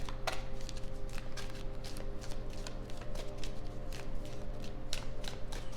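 Playing cards are shuffled by hand in a rapid riffling patter with sharp repeated flicks, close and continuous for several seconds, with no voices.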